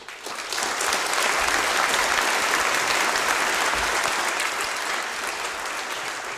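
Applause fills the hall at a 2024 high school graduation ceremony as an award recipient is honored, a sustained, even crowd clapping that begins after a brief quiet moment and runs for several seconds.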